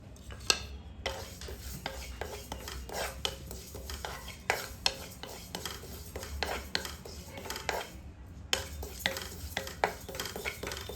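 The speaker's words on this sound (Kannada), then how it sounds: "2 ಟೇಬಲ್ ಸ್ಪೂನ್ ವೈಟ್ ಎಳ್ಳು ಹಾಕೊತಾ ಇದ್ದೀನಿ" Two tablespoons of white sesame seeds go into a pan and are stirred, with continuous scraping, light tapping of a utensil against metal, and faint rustling of the seeds, close and steady with no talk.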